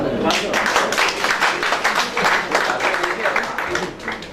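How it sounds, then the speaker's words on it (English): An audience at an architecture portfolio development session claps for the speakers, a steady, fairly loud round of applause sustained throughout with no clear talk over it. "A full big round of applause to all the speakers, please"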